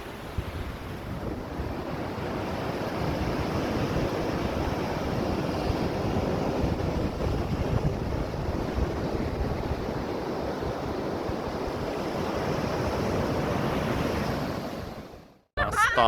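Wind-blown surf on a beach in the Azores near low tide: a constant, loud wash of breaking waves mixed with heavy wind buffeting the microphone, cutting off abruptly at the end.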